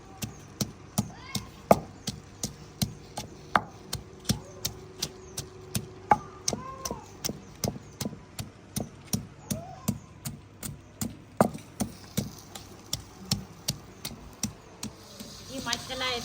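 Garlic pounded by hand in a village kitchen: a steady run of sharp, evenly spaced thuds, about two per second, continuing close and loud with a few faint background sounds between strikes.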